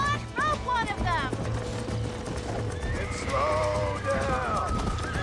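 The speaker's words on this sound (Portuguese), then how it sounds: "Eu tenho que ficar perto do cavalo laçado." Horses whinny and neigh loudly in the Red Dead Redemption video game, with stretched, wavering calls and a clatter of hooves throughout, while someone talks over them.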